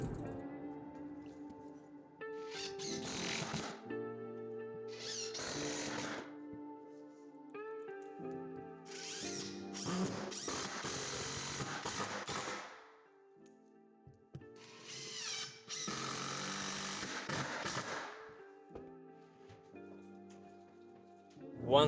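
Repeated bursts of loud, harsh hammer drilling into concrete, several seconds each, separated by short pauses and a steady low hum.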